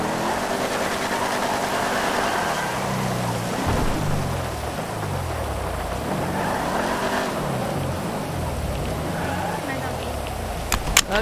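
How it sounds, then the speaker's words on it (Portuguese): Steady rain and rumbling thunder fill a street scene in the video game GTA, with a car engine droning underneath. People talk over the continuous storm noise. "Mais dia de chuva."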